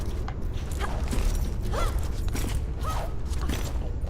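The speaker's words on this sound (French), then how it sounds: "On va donc tenter d'ouvrir la porte." A stone door mechanism grinds open in Tomb Raider Anniversary, a steady low rumble with creaking scrapes and periodic mechanical clunks running throughout.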